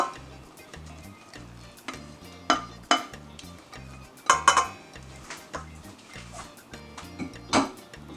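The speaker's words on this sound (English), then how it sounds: "Then we are going to mix our wet ingredients." Wet ingredients for zucchini oat bread being mixed in a bowl, with irregular clinks and taps of a utensil against the bowl over a soft, steady background.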